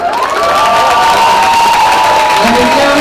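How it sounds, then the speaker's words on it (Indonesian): Audience at a Kompasianival event cheering and applauding as a city mayor is introduced, loud crowd roar with whoops and children's shouts, sustained over three seconds. "Ridwan Kamil sebagai Wali Kota Bandung, beri tepuk tangan."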